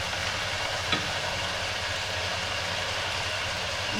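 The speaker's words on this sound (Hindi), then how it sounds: "तो माशाल्लाह से चिकन और आलू अच्छी तरह फ्राई हो चुके हैं।" Chicken and potatoes frying in a pan give a steady, even hiss of sizzling oil throughout, with a brief tap partway through.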